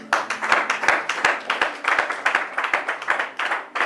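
A congregation at a French-language Bible teaching applauds the Lord, with steady rhythmic clapping of many hands in an even beat, loud and close.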